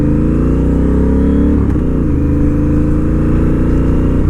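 A Honda Rebel 1100 motorcycle carrying a passenger hums loudly and steadily at close range, its engine note shifting briefly midway as if changing gear, with no voices heard.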